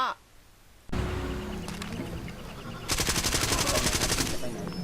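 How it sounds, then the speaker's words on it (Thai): An MP5 submachine gun in Far Cry 2 firing in rapid bursts, starting after a brief quiet lead-in and ending in a long, loud continuous string of shots near the end. "เอ็มพีห้านี่เออยิงไม่แรงเท่าไหร่นะครับ"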